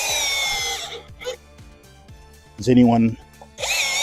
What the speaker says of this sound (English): so we'll put a few screws in it here